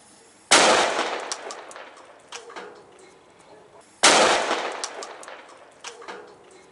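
A red Zeus firecracker set among plastic objects goes off twice, each a loud, sharp close bang with clattering debris and fading echo, about three and a half seconds apart.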